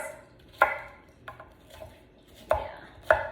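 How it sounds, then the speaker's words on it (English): Zucchini chopped into little chunks on a cutting board, four sharp knife strikes spaced unevenly with softer scraping between them, close and clear with no talking. "just chop it into little chunks."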